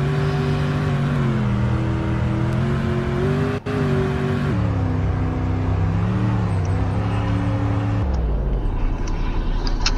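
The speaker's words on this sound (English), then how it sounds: "It's a nice idle. I really like this car." A car engine in the Roblox Greenville game runs steadily with a smooth, continuous hum and layered harmonics. The pitch shifts in a few steps, then drops to a lower, settled tone near the end.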